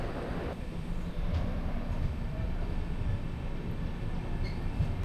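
A train climbs a mountain ghat on the Sahyadri route with a steady, heavy rumble and rolling wheel noise, close and continuous, with no speech.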